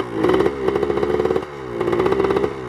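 A Yamaha YZ 82 dirt bike engine revs hard in two strong accelerating bursts with a short dip between, loud and close, its buzzing two-stroke tone rising in pitch each time.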